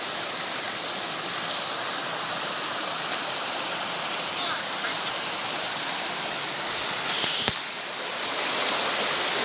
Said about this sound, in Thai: สวยมากน้ำตกทันโต นี่แค่ชั้นแรกนะคะ